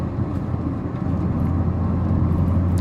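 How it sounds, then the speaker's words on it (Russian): Lada Priora engine running while driving, a steady low drone and road rumble from inside the car, continuous and fairly loud with a constant low hum beneath. "Мотор, наверное, уже помягче, потише стал работать"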